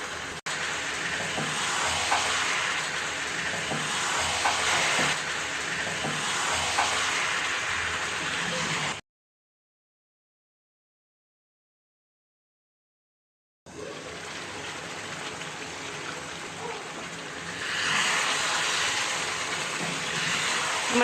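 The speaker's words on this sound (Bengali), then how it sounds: "শুরু থেকেই আমি হাই হিটে মাংসটা কষাচ্ছি।" Meat sizzles loudly as it is sautéed in a pot on high heat, a continuous dense frying hiss with faint stirring scrapes, broken by a few seconds of silence before the sizzling resumes.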